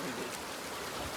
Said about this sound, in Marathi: तर बघू शकता नदी काय खतरनाक आहे